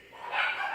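A brief, muffled dog bark rises and fades in under a second, sounding somewhat distant.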